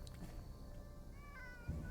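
A pet cat gives a few soft meows and a rising caterwaul-like cry indoors, faint and close, with a brief bump of handling noise near the end.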